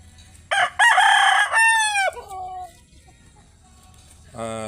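An eight-month-old Darag native rooster crows once, loud and close, with a rising then falling call that trails off, followed by another short burst of crowing at the end.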